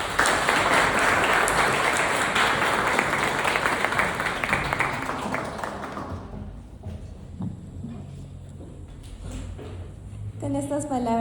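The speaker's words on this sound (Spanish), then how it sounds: "les quiero pedir un aplauso para ellos porque ha sido un trabajo excepcional" Applause from a seminar audience for students, dense and loud for about six seconds, then fading into scattered claps and room noise.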